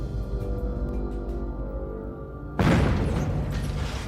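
A stage explosion in a magic trick bursts out as a sudden loud boom after a quiet stretch, then a dense roaring wash that holds steady to the end.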